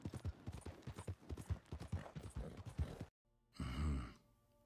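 Rapid horse hooves clip-clop in the video game New World, a quick close rhythmic run that stops suddenly, followed by a short breathy sigh-like vocal sound.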